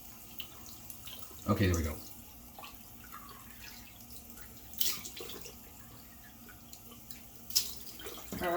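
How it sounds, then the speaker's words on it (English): Cold water runs from a bathroom sink tap and splashes onto a face after a shave, in a few short bursts of water noise, with someone talking briefly between them. "I'm going to splash on cold water to close the pores"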